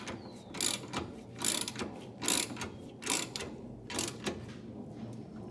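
Hand ratchet tightening a strap point bolt on a 2010-2015 Camaro ZL1, five or six evenly spaced bursts of sharp clicking strokes, close and fairly quiet.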